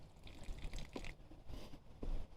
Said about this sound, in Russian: Все, вода льется.